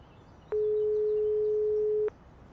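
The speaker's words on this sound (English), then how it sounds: "Let's also try ringing George." In the video game Broken Sword 5, a single steady phone tone plays for about a second and a half, clean and loud over faint background hiss.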